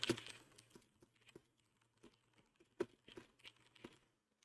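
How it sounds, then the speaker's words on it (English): Light, irregular keystrokes on a computer keyboard tap out in short bursts, quiet and close, with no voices over them. "Sorry for the keyboard noises"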